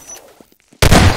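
A single loud, close shotgun blast in Half-Life 2 Deathmatch bursts in after a near-silent moment with faint clicks and lasts to the end.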